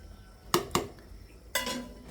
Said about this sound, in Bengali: এখন দিয়ে দিচ্ছি কয়েক টুকরো বেগুন